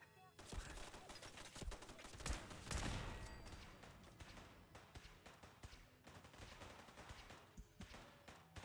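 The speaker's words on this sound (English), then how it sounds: "Damn, they're shooting." Heavy gunfire in the Fallout video game, with dense bursts of rapid shots and a loud barrage peaking in the middle, continuing steadily throughout without talk.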